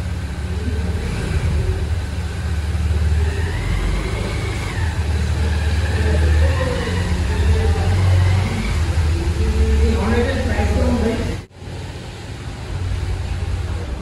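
A Honda Hornet 2.0 motorcycle heading out for a test ride after servicing, its engine droning steadily close by with shifting revs, then cutting briefly before a lower idle.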